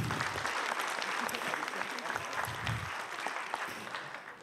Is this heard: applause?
yes